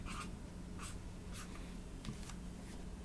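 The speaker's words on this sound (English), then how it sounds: "let me write this down" A pen or pencil scratches across paper in several short, close strokes with brief pauses between them, over a steady low background hum.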